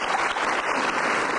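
Studio audience applause on the Indonesian talk show Mata Najwa, a dense, even roar of many hands clapping that stays loud and steady throughout with no talk over it.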